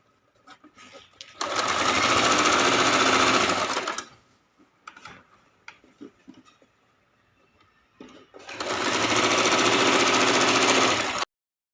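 A sewing machine stitches the folded hem of a blouse sleeve in two loud, steady runs of rapid mechanical clatter, separated by quiet handling and soft fabric movements.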